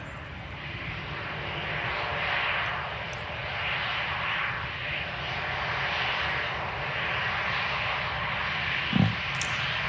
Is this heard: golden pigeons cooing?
no